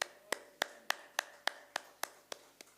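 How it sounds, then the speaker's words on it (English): Sharp claps sound in an evenly spaced series, about nine of them, close and fairly faint against a quiet background. They sound more like a single person's hands than a full audience. "Clap for your own self."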